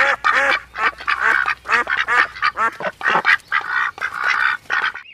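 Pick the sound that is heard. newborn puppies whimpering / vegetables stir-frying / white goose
white goose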